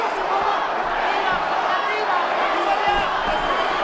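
An arena crowd roars steadily during an MMA fight, a dense, sustained wash of cheering and chatter with occasional thuds from the cage, while commentators talk over it.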